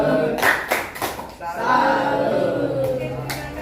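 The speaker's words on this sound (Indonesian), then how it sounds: "beri tepuk salut dulu untuk kelompok Cila" A classroom of students claps a rhythmic salute for a group, several loud, evenly spaced bursts of clapping near the start and a couple more at the end, with children's voices chanting in between.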